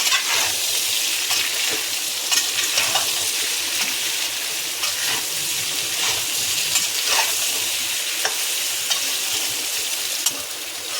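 Potato curry (yellow aloo sabzi) frying in a pan on low heat while being stirred, a loud, close, continuous sizzle with scraping strokes of the spoon throughout.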